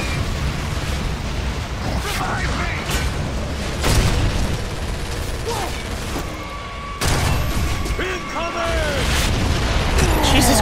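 Mortar fire rains down in Gears of War: Judgment, heavy booms and blasts hitting repeatedly over a constant loud roar of battle, with several sharp impacts standing out and voices talking over it.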